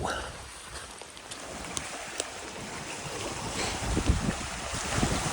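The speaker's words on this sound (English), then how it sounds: "Whoa, it's windy out on the pond today." Steady wind roars across the microphone with a broad rushing hiss over a pond on the Appalachian Trail, gusting slightly throughout, no voices.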